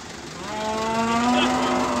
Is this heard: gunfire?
no